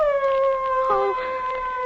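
Dogs howling in a 1944 radio mystery drama: long, wavering, sustained howls layered together, close and fairly loud, with a brief rising cry in the middle.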